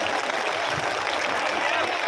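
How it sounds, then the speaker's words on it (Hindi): A crowd claps at a political party rally in Ashoknagar, Madhya Pradesh, producing a continuous dense roar of applause that stays even and fairly loud throughout. "आप सभी लोग हमारे बहन जी का ताली बजा करके एक साथ स्वागत करेंगे, ताली बजा करके सभी लोग।"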